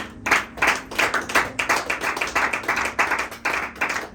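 A church congregation claps in quick, steady rhythm, with a few voices acclaiming beneath the close, bright hand claps.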